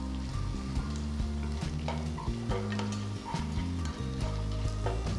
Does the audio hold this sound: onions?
yes